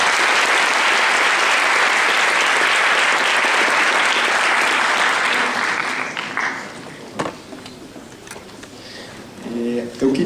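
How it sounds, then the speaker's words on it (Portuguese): Audience at a talk event bursts into loud, dense applause that fills the room for about six seconds, then thins to scattered claps and murmurs before voices rise near the end. "Uma salva de palmas."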